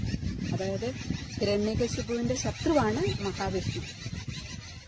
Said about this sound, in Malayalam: നല്ല കിളികളുടെ ശബ്ദം അല്ലേ.